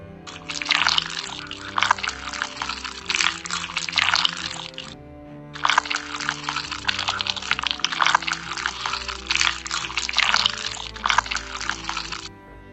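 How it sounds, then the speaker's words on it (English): Water pours in two long runs to rinse a paper DIY skincare craft, a close, bright splashing trickle broken by a short pause, with no one speaking. "And then we rinse it by water."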